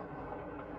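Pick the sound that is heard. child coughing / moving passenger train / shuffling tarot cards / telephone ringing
moving passenger train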